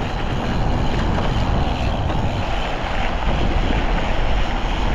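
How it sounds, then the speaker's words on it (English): Strong wind buffeting the microphone on a rural road by railroad tracks, a loud continuous roar with dense low rumble filling the whole stretch, no voices over it. "I apologize for the wind, it's super windy out here"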